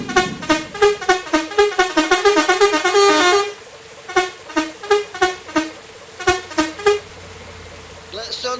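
A truck horn in the Bus Simulator Indonesia (BUSSID) game, on a Hino bus with a kandelpot sound mod, blares in a rapid series of melodic toots, then a slower run of separate honks, loud and close.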